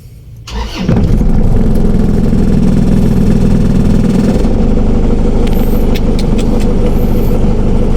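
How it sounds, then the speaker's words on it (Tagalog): A car engine starts with a short crank and then settles into a steady, loud, close idle as it warms up, with a few faint higher sounds later on. "Initin ang sasakyan."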